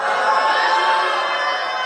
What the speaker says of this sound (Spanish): Abucheos.